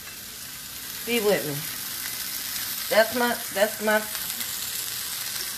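Fish, peppers and onions fry in a pan for tacos, a steady close sizzle running throughout while a voice breaks in briefly a few times.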